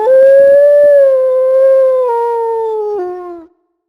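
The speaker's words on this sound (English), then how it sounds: "This animal is called a grey wolf." A grey wolf in The Hoobs PlayStation video game gives one long, loud, clear howl lasting about three and a half seconds, its pitch sliding gently downward in steps before cutting off into silence.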